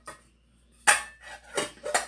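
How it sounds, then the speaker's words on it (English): Metal camping cookware, a plate and a frying pan, clanks and knocks in three separate sharp bursts with quiet gaps between, close by and alone without voices. "I got a plate and a frying pan"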